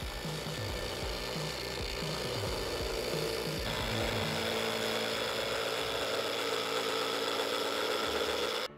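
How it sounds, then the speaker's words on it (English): A power sander grinds steadily against a Toyota Sequoia rear bumper, trimming it back to a tape line, a continuous close abrasive whir with rhythmic scraping strokes in the first half before the tone smooths out, then stopping abruptly at the end. "Now I'm just gonna take my sander and just dial up to this tape line."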